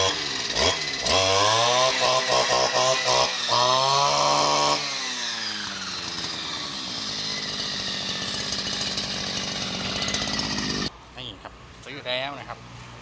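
A small two-stroke grass cutter engine revs loudly with a high buzzing whine, rising and settling into a steady idle, then cutting down near the end.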